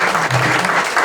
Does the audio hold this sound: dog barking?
no